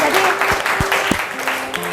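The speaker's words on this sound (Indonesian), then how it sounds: "tepuk tangan dulu anak-anak" Schoolchildren clap in a classroom, a short burst of fairly close, busy applause mixed with young voices and brief thumps.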